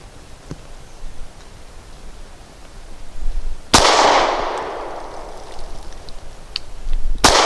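A Grand Power P1D pistol fires steel-cased 115-grain full metal jacket rounds outdoors. Two sharp, loud reports sound several seconds apart, the first trailing into a long rumbling echo, with faint wind noise between them.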